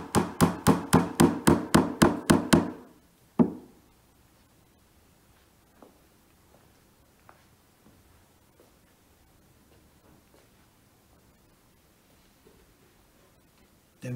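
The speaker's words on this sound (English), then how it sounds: "Just gently tap those home." A quick run of about nine close, even taps as wooden dowels are driven home on an IKEA FLYSTA shelving unit, followed by a single louder knock and then near silence with faint scattered clicks.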